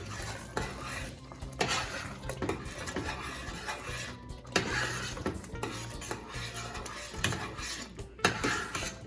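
A spoon stirs eggplant curry in a pot, making repeated scraping and clinking strokes against the metal over a low, soft simmer and sizzle, with no voices.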